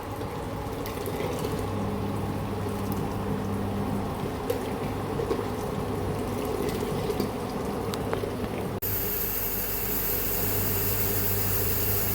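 Starchy water pours off a pot of boiled ration rice being drained for biryani, a steady, close, continuous rushing gush that shifts to a brighter, harsher flow near the end.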